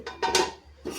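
A few quick metallic clanks and scrapes of a lid settling onto a boiling pot of koi fish curry, close and fairly quiet.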